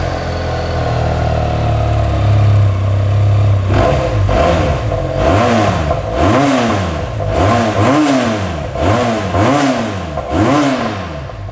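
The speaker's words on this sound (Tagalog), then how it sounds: "Ito, V-twin engine, pakinggan natin yung sounds niya." QJ Motor SRK 400 V-twin motorcycle with stock muffler idling low, then revved repeatedly in rhythmic blips, each rising and falling with a deep, crisp bassy growl, close and loud.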